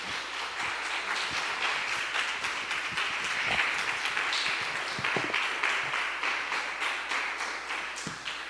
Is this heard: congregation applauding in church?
yes